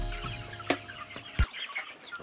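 Chickens cluck at a poultry farm in Nepal, a few soft clucks and scattered thumps over a faint hum of barn noise, no one speaking.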